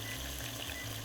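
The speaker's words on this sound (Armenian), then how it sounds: "Քանի որ հավը տապակվում է" Chicken frying in a pan, with a steady close sizzle and crackle running continuously through a brief moment, no voices.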